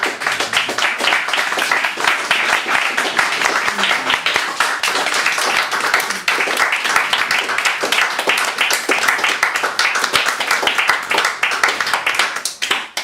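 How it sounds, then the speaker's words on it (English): A theatre audience gives sustained, loud applause after a stage performance, with dense, continuous clapping throughout. "Give him another round of applause."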